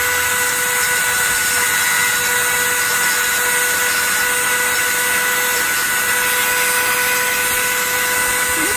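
Continuous high-pitched whine of a small rotary sanding tool grinding resin steadily at close range, with a bright buzzing tone and no pauses.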